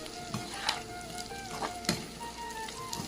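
Beef tripe bhaji with fried potato being stirred in a pan, a steady loud sizzle broken by several sharp scrapes and clanks of the spoon against the metal, with no voices.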